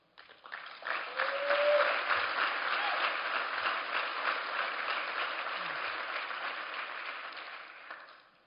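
Applause from a gala audience, a full, steady wash of many hands clapping that swells quickly, holds for several seconds, then fades out near the end.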